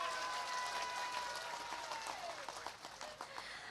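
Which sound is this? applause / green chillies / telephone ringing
applause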